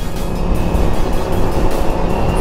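A Kawasaki Ninja 400 motorcycle rides along EDSA with a loud, continuous rushing roar of engine and wind. There are no clear pauses and no audible voice.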